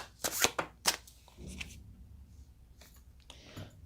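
Tarot cards shuffled by hand during a reading: a few sharp riffling bursts close up at the start, then softer, scattered card rustles and taps in a quiet room.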